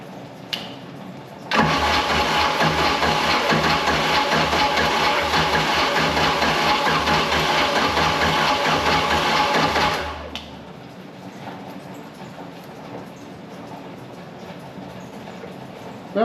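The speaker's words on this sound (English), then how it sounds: "Sounds like we have a little bit of a manifold leak." A Mercruiser 3.0L boat engine with a manifold leak runs loud and close for about eight seconds, a steady rough drone with ragged ticking, then cuts off to a quiet background.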